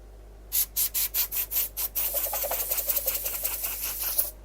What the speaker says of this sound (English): So I'm just going to have a little bit of sandpaper here in the rim and the end.